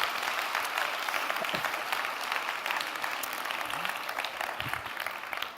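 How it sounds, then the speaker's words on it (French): Audience at a TEDx talk in a theatre applauding steadily and loudly, a dense, continuous wash of clapping from many hands with no pauses throughout. "On peut vous applaudir."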